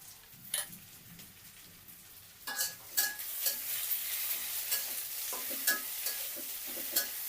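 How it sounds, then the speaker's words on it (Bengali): Onions fry softly in a pan while being stirred, giving a faint steady sizzle broken by a series of scraping, clinking stirs at close range. "পেঁয়াজগুলো লাল লাল হয়ে আসলে তারপরে মশলাটা দিয়ে দিব"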